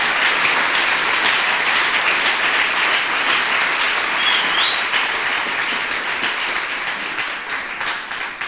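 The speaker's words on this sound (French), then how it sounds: "Clap for those mighty men of David." Sustained applause from a large audience at a religious crusade gathering, dense and steady clapping filling the full length at close range, easing only slightly toward the end.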